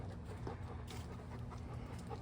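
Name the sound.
dogs panting on a walk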